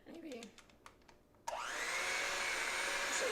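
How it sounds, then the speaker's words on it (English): A hand mixer starts abruptly and runs loud and steady at close range, beating cheesecake batter in a home kitchen, after a few moments of quieter clatter. "Go ahead and use the hand mixer if you want to. And this gets kind of loud"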